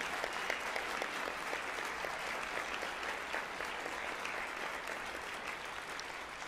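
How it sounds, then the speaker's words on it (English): Continuous, full applause from a concert audience honoring a university wind symphony's band program, even and fairly loud across the whole span with no speech. "Can we have them stand and give a round of applause for their outstanding bands program?"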